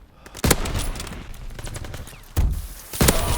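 A fire shotgun blasts in Call of Duty WWII: three loud, close booming shots spaced apart, with rattling game gunfire and effects between them.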